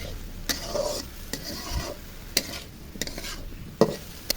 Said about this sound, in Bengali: বাটনাটা দিয়ে নাড়াচাড়া করে নিচ্ছি